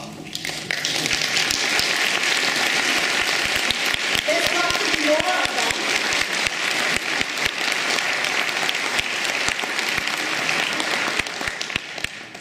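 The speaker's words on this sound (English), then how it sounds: "so that they can receive a round of applause" An audience at a talk on ecological feminism and earth democracy gives a sustained round of applause, dense clapping that fills the whole stretch, with a voice speaking briefly over it.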